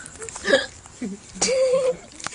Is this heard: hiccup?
yes